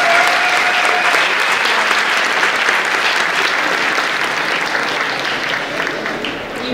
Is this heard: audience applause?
yes